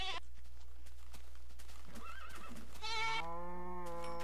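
A goat in Minecraft bleats in short wavering cries near the end, over a steady low hum and scattered light game clicks and taps.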